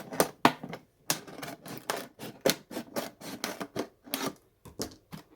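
Scissors cut around a plastic container to form a hinge, giving a quick run of sharp snipping and crunching bursts with rattles as the table shakes, close and fairly loud with no talking.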